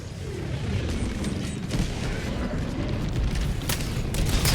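A smoke grenade bursts in a video game, a sustained low rumbling boom with hissing broadband noise that stays steady and fairly loud throughout.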